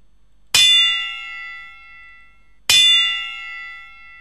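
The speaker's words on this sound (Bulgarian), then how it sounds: "Като ги убие се чува нещо. Пинг... Тинг, някакъв гонг." Two bright gong-like metallic pings sound on kills in the video game GTA San Andreas, each struck sharply and ringing out for about two seconds, loud and alone with no talking.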